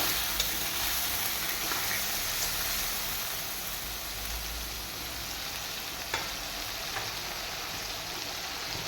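Bay leaf dropped into hot oil with ginger, green chilli and cumin paste in a pan for a Bengali ghonto, giving a steady close sizzle and frying hiss throughout with faint stirring scrapes.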